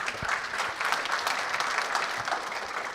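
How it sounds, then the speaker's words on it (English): An audience at a tech conference project update gives a steady, dense round of applause for a speaker, fairly distant and even throughout, with no voices over it. "Wait, I get applause?"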